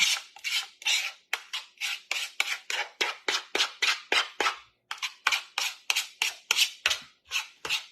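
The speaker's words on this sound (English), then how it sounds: "scrape down the edges" Spatula scraping down the sides of a mixing bowl of blackberry fat bomb mixture, a steady run of about twenty brisk rasping strokes in quick rhythm, close and clear with no talking.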